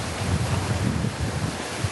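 Strong wind buffets the microphone during sea fishing with a rod, a constant rushing roar with low gusty rumbles and no talk.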